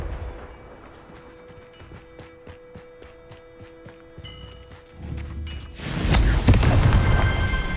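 Blasting spell impacts from the video game Hogwarts Legacy: a run of sharp, evenly spaced booming cracks over a quiet bed, followed by a louder, denser burst of explosive noise near the end.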